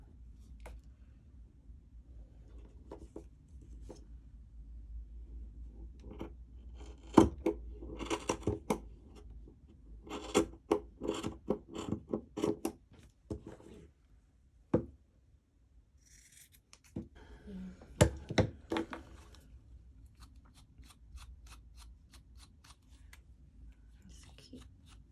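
Scissors snip the cord ends of a macrame keychain, a scattered run of short, crisp cuts at close range with quiet handling in between and no talk.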